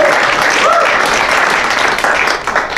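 A live audience at a comedy or improv club showcase applauds, loud, dense clapping that fills the whole stretch and tapers slightly at the end.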